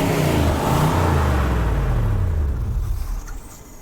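A 1976 Chevy C30 truck engine, long left sitting under a tree, roars at high revs, then drops in pitch as the throttle eases off, a loud close rumble with no voices.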